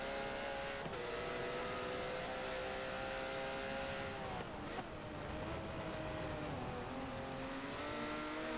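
Porsche Cup race car engine revving hard and loud through a wet corner, the pitch dipping and climbing as the car slides wide and fights for traction, a steady close roar throughout.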